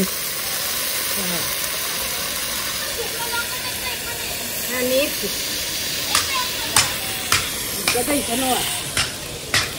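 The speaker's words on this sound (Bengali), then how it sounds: "এটা আগে খিচুড়ির ফোড়ন রেডি হচ্ছে নাকি?" Spices crackle and sizzle in hot oil for a khichuri tempering at an outdoor winter picnic, a steady frying hiss with sharper pops building toward the end, while people talk nearby.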